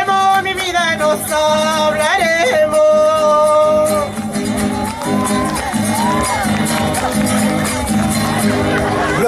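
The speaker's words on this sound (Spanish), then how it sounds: "Los aplausos para la señora" An audience cheers and applauds after a folk singer's performance, loud crowd shouting, whoops and clapping that swell at the start, then settle into continuous cheering and chatter.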